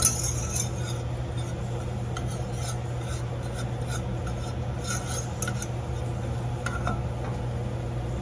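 Butter and flour roux stirred in a pan, a continuous soft scraping and rubbing with faint clicks of the utensil against the pan over a low steady hum, no talking.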